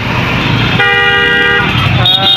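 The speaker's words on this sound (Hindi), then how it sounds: "यहाँ लग गया जाम" A vehicle horn toots loudly and steadily for about a second in a roadside traffic jam caused by a truck, with engine rumble and street noise around it.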